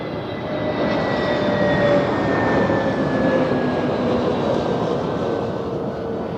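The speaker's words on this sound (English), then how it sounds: "we expect the departure of the United 767" A United Airlines Boeing 767 departs Zurich Airport with a broad, loud jet roar that holds steady and slowly swells, a faint whine drifting above the rumble, with no voices.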